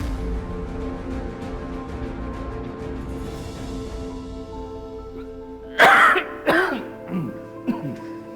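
A few harsh coughs and throat-clearing bursts, close and loud, follow several seconds of quieter background hum.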